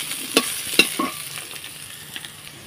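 Potatoes frying in a pan for a banana-flower dish, a soft sizzle broken by a few sharp close clicks and scrapes of stirring, then fading quieter, with no talk.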